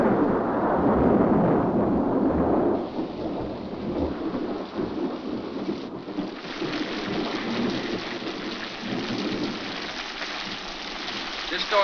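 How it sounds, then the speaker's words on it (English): Heavy rain pours steadily in a thunderstorm from a 1947 film about the atomic bomb, with deep rumbling thunder rolling beneath the downpour throughout. "This storm will clear up for an hour"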